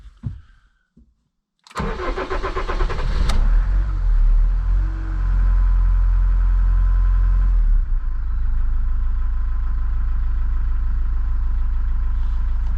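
A campervan engine cranks briefly and catches, then settles into a steady, rumbling idle close by.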